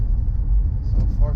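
Audi A4 with a freshly rebuilt engine on a test drive, shifting up into third gear: a steady low engine rumble with road noise, fairly close and continuous, with a slight rise near the end.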